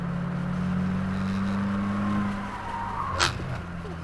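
A 2022 Subaru WRX on the Waterford Hills race track during an open track day gives a steady in-cabin engine drone that eases off partway through, with a short sharp burst near the end.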